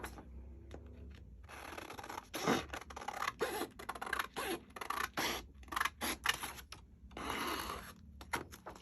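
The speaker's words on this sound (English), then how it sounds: "I love the sound of these scissors." Scissors cut through paper up close, in a series of crisp snipping and rasping strokes broken by short pauses, with no talk.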